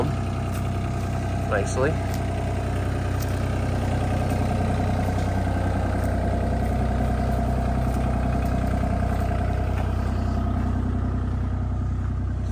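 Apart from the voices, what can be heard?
excavator engine idling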